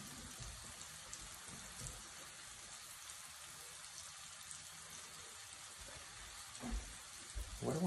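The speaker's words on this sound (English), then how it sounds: "And you can hear the sizzle." A faint, steady sizzle of food sautéing in caramel sauce in a pan crackles throughout, with a couple of louder clunks near the end.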